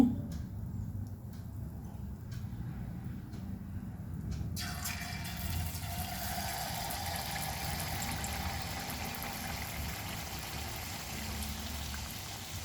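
Malpuri batter ladled into hot oil, a sudden loud sizzle bursting in midway and continuing as a dense, steady crackle of frying close by, after a quieter stretch of low background rumble.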